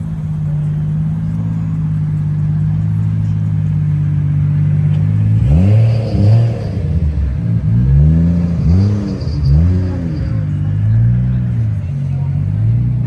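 A Lexus LC with a top-mounted supercharger setup idles with a low steady hum, then revs loudly in several sharp rising and falling blips before settling back to idle, close up.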